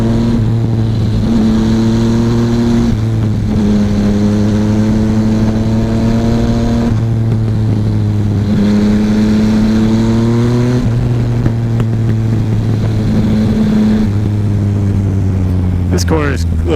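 A Suzuki SV650 or Yamaha FZ-09 motorcycle ridden through corners, its engine loud and close, droning steadily and rising in pitch under throttle, then dropping back at each shift, over constant wind rush.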